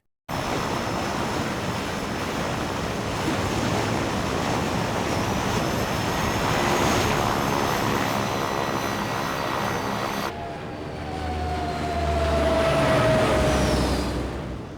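An airplane escapes in Resident Evil Code Veronica X: a loud, steady roar of aircraft engines and propellers drones without a break, with a rushing, wind-like wash. The tone shifts abruptly near the end as the engine pitch sweeps.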